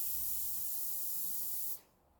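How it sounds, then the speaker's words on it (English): A modelling balloon for a one-balloon aeroplane is filled by an air pump, giving a steady close hissing rush of air that stops abruptly near the end. "you will inflate your balloon"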